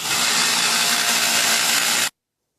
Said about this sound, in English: we're going to come over here to the sander and we're going to taper the end of it